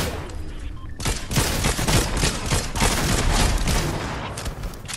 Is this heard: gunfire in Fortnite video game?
yes